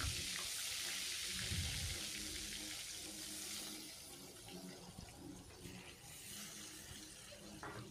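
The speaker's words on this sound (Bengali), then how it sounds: "মাছটা ভাজা হতে হতে আপনারা একটা জিনিস দেখে নিন।" Rohu fish rubbed with turmeric and salt fries in hot oil in a wok. A dense, steady sizzling hiss is heard up close, easing slightly in loudness partway through, with no talking.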